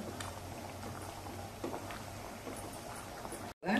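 Sugar syrup for boondi ladoo bubbles in a pan over high heat while being stirred, a steady low bubbling hiss with occasional soft scrapes, ending with a brief gap and a louder burst.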